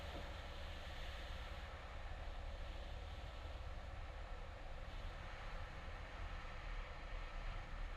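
An old V-tail light aircraft's engine, power pulled back for landing, hums steadily beneath broad wind and airframe noise, a constant moderate drone with no voices.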